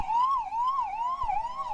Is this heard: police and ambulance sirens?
yes